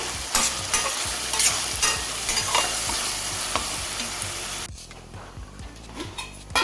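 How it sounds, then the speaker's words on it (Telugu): Masala onion paste sizzles and fries in a pan while a spoon stirs it, loud close scraping strokes over steady frying, then the sizzle drops quieter near the end. "పేస్ట్ అయితే వేగుతూ ఉందండి మన మసాలా పేస్ట్"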